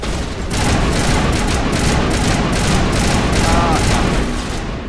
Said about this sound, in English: Get down! Grenade, boom!